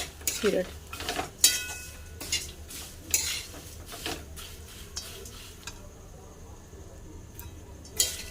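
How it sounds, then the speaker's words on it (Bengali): Flattened rice (chira) stir-fried in a pan, with repeated scraping and clinking of a metal spoon against the pan at an uneven rhythm and a light sizzle underneath, close up. "এবার ভালো করে চিড়েকে ভেজে নেব"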